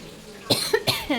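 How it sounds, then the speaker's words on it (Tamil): Two sharp coughs a moment apart, close and fairly loud, followed by a softer throaty sound at the end. "இது எனக்கு இருமல்"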